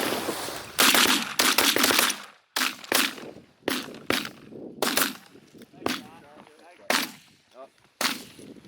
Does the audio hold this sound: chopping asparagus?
no